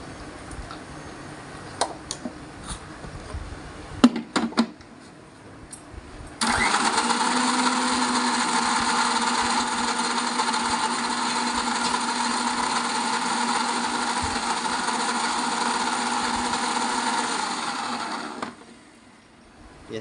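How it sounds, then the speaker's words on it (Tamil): A mixer grinder starts with a few clicks and then runs in a steady loud whirring grind for about twelve seconds before winding down, close by. "இன்னும் கொஞ்சம் அரைக்கலாம்"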